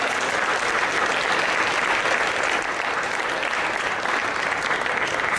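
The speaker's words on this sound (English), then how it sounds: "A round of applause for him, Evening and Cynthia." Dense, steady applause from an evening audience after a poem is performed, loud and sustained with no break throughout.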